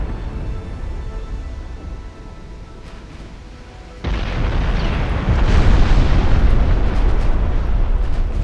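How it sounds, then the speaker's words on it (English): 12-inch naval guns fire in World of Warships: a quieter rumbling stretch gives way to a sudden loud, sustained roar of heavy booming blasts that keeps building, with no talk over it. "12-inch guns are blasting big holes in those heavy cruisers, though."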